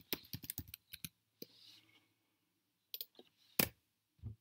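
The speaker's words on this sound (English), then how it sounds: "So we can click it and we can type something else." Mouse clicks and keyboard typing on a computer while editing graphics in Canva come as quiet, close, quick bursts of taps separated by short pauses.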